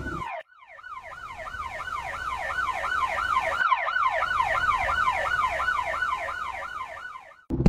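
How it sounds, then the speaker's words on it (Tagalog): In an animated story, an ambulance siren wails alongside a police siren, a fast, steady up-and-down electronic sweep close by and fairly loud, cutting in and out briefly. "Andiyan ang ambulansya. Medyo natagalan lang pero bakit may kasunod itong pulis?"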